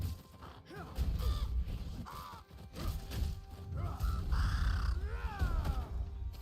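A crow caws in the video game Ashes of Creation, a few harsh, nasal calls close by over a quiet game backdrop.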